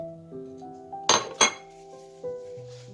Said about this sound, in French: on transvase la viande dans un contenant